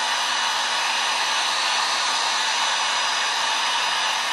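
A heat tool blows hot air onto a storage container's label, a steady close whooshing hiss with a faint motor hum and no pauses.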